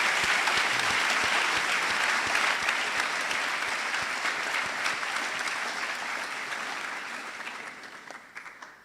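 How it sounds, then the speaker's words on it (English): Sustained applause from students, staff and parents at a high school speech day ceremony, a full hall of clapping that gradually thins and fades toward the end. "Give yourselves a round of applause."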